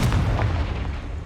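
A Confringo fire spell blasts off in Hogwarts Legacy, a single dense booming burst with a rumbling tail that fills the whole moment, loud and close.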